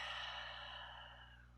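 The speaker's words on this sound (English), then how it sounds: "And then breathing out slowly." A slow, deep exhale following a full breath in, a soft, steady breathy rush that gradually fades over about a second and a half, close and quiet with no talking.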